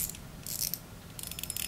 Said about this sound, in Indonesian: Kita coba dengar bunyi dragnya.